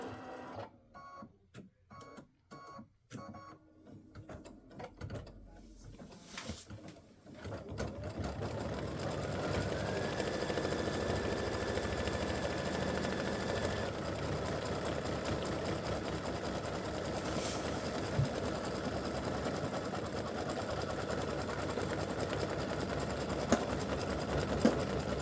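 An embroidery machine stitches appliqué on a football turkey mug rug, a few sparse taps at first, then a steady, loud, continuous mechanical whir with rapid needle chatter and a brief rising motor tone partway through.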